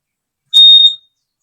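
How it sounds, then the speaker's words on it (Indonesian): A short, piercing electronic alarm chirp from the security alarm of a 2021 Honda Scoopy scooter, steady high tone, lasting under half a second, loud and close, then silence. "alarm berbunyi."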